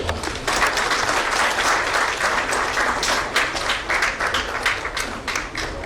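Sustained audience applause after a speech at a chief minister's meeting with industrialists, steady dense clapping from a room full of people, moderately loud and continuous with no talk over it.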